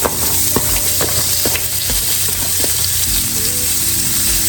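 Chopped yellow onions fry in a pan with a steady, close sizzle, broken by a few scattered pops and the light scrape of stirring.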